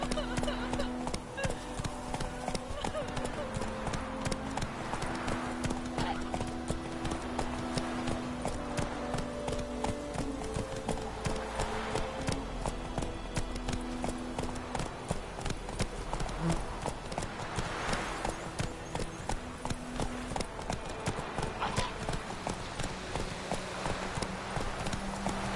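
Roach the horse trots in The Witcher 3, hooves clip-clopping in a quick, steady rhythm, close and continuous throughout, with faint background sounds and a few soft tonal notes underneath.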